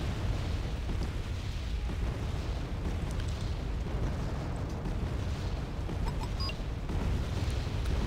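Missile fire and explosions from Patriot air defence shooting down aircraft in the Wargame Red Dragon video game, a continuous loud barrage of booms and bursts with dense low rumble throughout.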